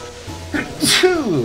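A single sneeze from someone commentating a playthrough of A Hat in Time, a sharp burst with a breathy intake just before, followed by a brief voiced exhale.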